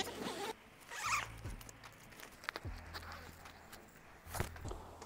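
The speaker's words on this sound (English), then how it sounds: "First thing to open, the YKK zip around the cover." A YKK zip running around the cover of a Howling Moon Solar Eclipse rooftop tent is pulled open in several quick rasping bursts, close and fairly quiet, with faint handling noises between pulls.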